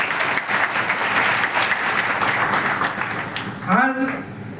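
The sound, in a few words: crowd applauding for Eknath Shinde and Rajendra Yadav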